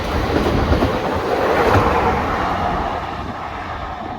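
A regional Omnéo train passing through Houilles-Carrières-sur-Seine station, a loud, close steady rumble with wheel clatter that eases slightly as it moves on, with no talk.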